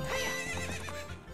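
A horse whinnies in The Legend of Zelda: Ocarina of Time, a single loud, wavering neigh lasting about a second with faint hoof clops underneath, close and alone without talk.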